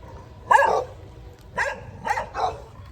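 Dogs bark in four short bursts, one louder bark followed by three more spaced over a couple of seconds, fairly close against quiet background.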